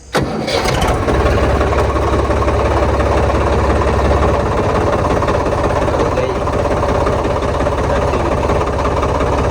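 A John Deere tractor engine starts up and settles into a loud, steady diesel idle with a deep rumbling throb, running continuously up close.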